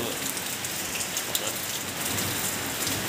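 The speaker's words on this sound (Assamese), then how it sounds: "বৰষুণ পূৰা বাহিৰত" Steady rain patters densely on a surface, a constant wash of drops with a few sharper splashes, no one speaking.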